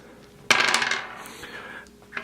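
Dice rolling during a Rattenkrieg postcard board game: a sharp clatter onto a hard surface followed by a second of rattling and tumbling that fades, with a small tap near the end.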